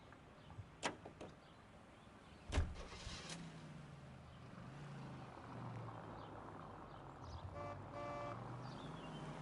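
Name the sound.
car engine starting in the video game L.A. Noire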